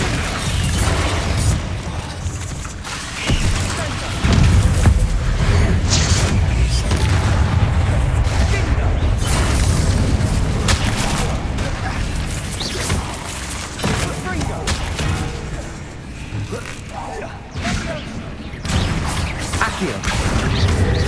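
Bombarda and Confringo spell blasts from the Hogwarts Legacy video game, loud booming bursts layered over a dense, continuous battle din lasting the whole stretch.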